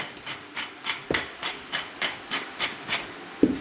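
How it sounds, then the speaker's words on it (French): Spinach sautéing in a pan as its water cooks off, a steady soft hiss broken by evenly spaced scraping strokes about three per second, with a sharper knock near the end. "Donc l'eau de végétation est en train de s'évaporer"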